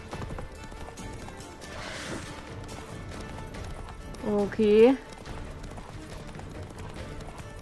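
A horse gallops in Witcher 3: Wild Hunt, its hooves clip-clopping steadily through the whole stretch beneath the game ambience, while someone speaks briefly near the start and a voice rises midway.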